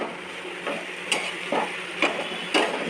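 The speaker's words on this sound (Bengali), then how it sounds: "ঝিঙেটা দিয়ে দিলাম জল বেরোবে" Ridge gourd being cooked in a pan before salt is added gives a soft, steady sizzle. A few clattering stirs sound at intervals of about half a second over the low frying hiss.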